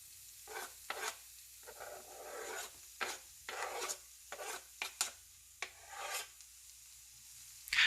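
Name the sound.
knife back scraping chopped mushrooms off a cutting board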